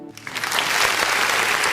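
A church congregation breaks into applause during a worship service, the clapping swelling quickly from near quiet into a dense, loud, steady patter.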